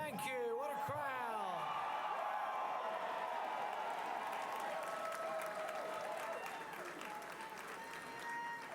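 A large crowd at a Kentucky election-night victory speech cheers and applauds loudly, with whoops and sustained clapping that slowly eases, and a voice briefly audible amid the noise.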